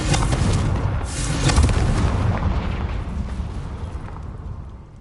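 A Confringo spell blast in Hogwarts Legacy rumbles as a heavy boom, with a strong low-end burst that swells again and slowly decays over several seconds, loud and close with no talking.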